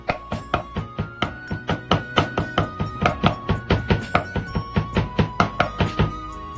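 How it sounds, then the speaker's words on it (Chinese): Knife mincing diced meat finer on a board, a fast, steady run of firm thunking chops, close and loud, repeating for several seconds with no talk. "切好后感觉偏粗的一定要剁细一点"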